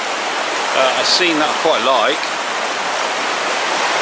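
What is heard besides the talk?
water flowing at stream's edge, Dartmoor woodland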